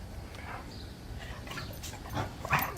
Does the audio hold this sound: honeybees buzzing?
no